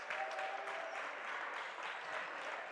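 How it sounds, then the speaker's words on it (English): Steady applause from the home crowd fills a high school basketball gym, a faint, continuous wash of many hands clapping at a distance. "The West End crowd continues to clap."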